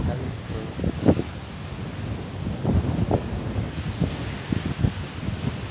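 Strong wind gusting across the microphone, producing low rumbling bursts and buffeting that rise and fall irregularly.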